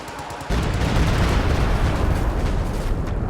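A Stuka firing in a World War II strategy game, a sudden loud burst of roaring, crackling explosions that cuts in after a quiet half second and continues as a dense, rumbling barrage.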